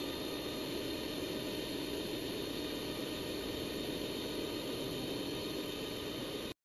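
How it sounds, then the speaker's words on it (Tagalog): An electric mixer whips egg whites with cream of tartar, giving a steady, unbroken whirring hiss of even loudness that cuts off abruptly at the end. "Paandarin na natin ng mixer at hayaan na natin siyang i-mix hanggang sa umalsa na."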